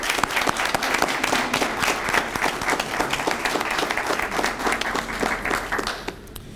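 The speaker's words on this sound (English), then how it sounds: "We want to give you a round of applause." A round of applause from an audience recognizing scholarship essay competition participants, dense steady clapping from many hands throughout, fading slightly at the end.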